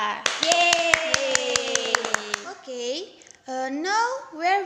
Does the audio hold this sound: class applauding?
yes